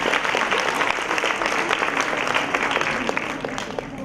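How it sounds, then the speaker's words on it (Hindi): Audience applause for students at a university induction programme in Rohtak, a loud, dense, continuous clapping from a large crowd sustained evenly for several seconds. "जोरदार तालियां तमाम विद्यार्थियों के लिए"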